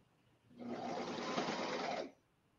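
A Brother Airflow serger runs in one smooth, steady whir for about a second and a half as it stitches fabric, starting and stopping cleanly against a quiet room.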